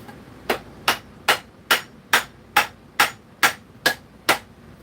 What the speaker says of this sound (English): I don't know that this hammer is heavy enough.